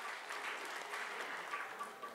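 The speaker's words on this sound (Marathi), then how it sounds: "त्यांच्यासाठी सुद्धा एकदा जोरदार टाळ्या" Faint, distant applause from an audience at a musical stage programme honouring G. D. Madgulkar and Sudhir Phadke, a steady soft patter of many hands with no speech.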